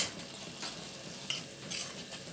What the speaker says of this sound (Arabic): الجزر يتشوح مع الطماطم والبهارات